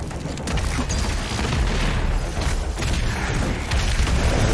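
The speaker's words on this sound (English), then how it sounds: "I'm going to shoot that cannon" A cannon fires in Doom Eternal over a dense, continuous roar of booming game combat, loud throughout with no talk.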